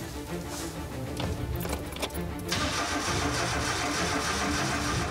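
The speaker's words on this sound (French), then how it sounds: "Le contact est là, le démarreur fonctionne, bonne nouvelle." A car engine cranks over with a rough, grinding starter whir, then becomes a louder, steady broadband rumble for the rest of the clip.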